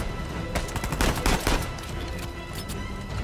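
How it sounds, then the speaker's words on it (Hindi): Machine gun fire in the video game Uncharted: Legacy of Thieves, rapid bursts of close, loud shots in quick rhythmic clusters over a constant noisy din. "भाई, ये तो आज तरफ से हमले करे जा रहे हैं भाई, ये मशीन गन लेके घूम रहे हैं"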